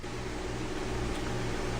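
Microwave oven running with vegetables steaming inside, a steady even hum and whir held at a constant low level throughout, close by and with no talk.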